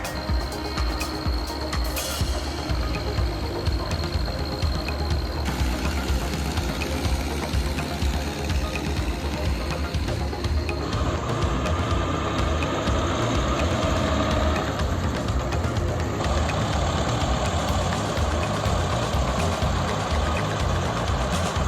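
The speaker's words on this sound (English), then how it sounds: "the mighty MTZ tractor was suddenly stuck in a deep swamp. The engine roared as it tried to escape" An MTZ tractor stuck in a deep swamp, its diesel engine roaring steadily and loud throughout with a rough, vibrating drone and shifting strain, no voices heard.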